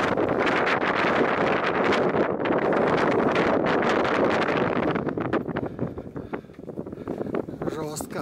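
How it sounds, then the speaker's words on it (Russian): Strong wind on the stairway of Ambuluwawa Tower in Gampola, Sri Lanka, buffets the microphone in continuous rough gusts, loud and close, with the roar easing slightly toward the end. "Тут ветер будет"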